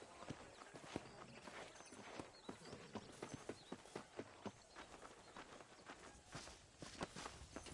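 Horse hooves clip-clop in a steady, close walking rhythm in the video game Red Dead Redemption, with a soft continuous background behind the repeated hoof strikes and no talk.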